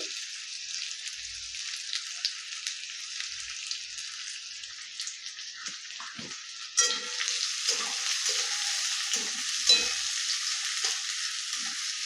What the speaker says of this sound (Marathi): आता आपण याच्यात लगेच कांदा घालूया कारण ते कांद्यासोबत परत फ्राय होणार आहे